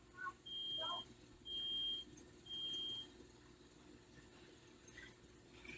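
A home alarm in an apartment sounds three long, loud electronic tones in a row, each about a second long, over a low background hum, with faint voices nearby.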